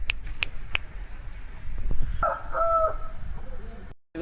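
A young Bhimavaram breed rooster on a farm lets out one short, clear crow midway, preceded by a few sharp clicks and steady background noise.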